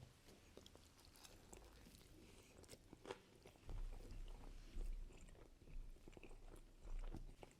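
Biting into and chewing a champagne-infused cheeseburger up close, with soft crunchy bites and steady moist mastication sounds that grow louder in the second half, no talking.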